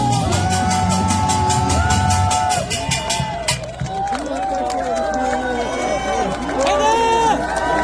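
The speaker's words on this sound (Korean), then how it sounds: "다시 한번 힘찬 박수 함성 부탁드리겠습니다." Outdoor campaign rally crowd at a Korean fortress, loud and dense with cheering, whoops and shouts mixed with clapping, while amplified music or a chant rings over it before a voice speaks.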